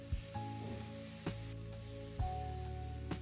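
Vegan Korean-style vegetable pancakes fry over medium heat in a pan, a steady close sizzle with a few faint clicks and knocks of utensils against the pan.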